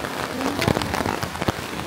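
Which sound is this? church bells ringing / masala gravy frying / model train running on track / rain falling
rain falling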